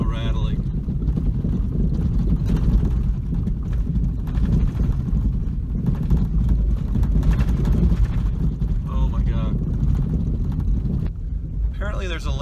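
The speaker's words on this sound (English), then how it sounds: "Oh my god, this thing is so rattling." An early 90s Chrysler minivan jolts along a rough dirt road, its body and interior rattling and clattering continuously over steady wind and road rumble, with a voice speaking over the noise.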